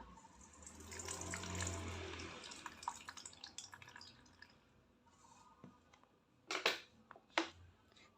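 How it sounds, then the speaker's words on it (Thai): Rinse water is poured off alfalfa seeds in a plastic drinking-water bottle, a soft close trickle at first that fades, followed by a few sharper splashes and drips near the end. "เทน้ำทิ้งออกนะคะ"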